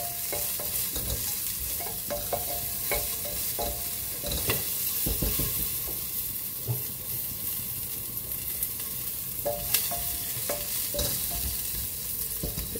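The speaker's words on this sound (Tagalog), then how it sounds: "Gisa lang natin." Food sizzles and spatters in a hot pan while being stirred and sautéed for Hainanese chicken rice, a dense, steady frying crackle with repeated scraping of the utensil throughout.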